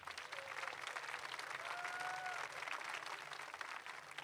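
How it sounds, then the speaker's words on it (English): Sustained applause from a commencement audience at a high school graduation, dense and even clapping from a large crowd with faint voices and a brief whistle-like tone threaded through. "One more round of applause and thanking all these outstanding community organizations."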